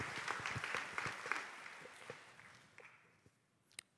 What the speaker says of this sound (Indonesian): Saudara tepuk tangan sekali lagi untuk Tuhan Yesus.